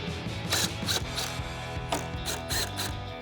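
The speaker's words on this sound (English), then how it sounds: "So we're going to remove the other 10mm screw and the 2 T15 torque screws on the bottom." Ratchet with a 10mm socket backing out headlight screws on a RAM 2500, heard as several close, quick bursts of metallic clicking with short pauses between them.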